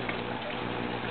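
Cold tap water runs steadily into a container being filled partway for washing a bird hide, a constant close rushing splash with no voices.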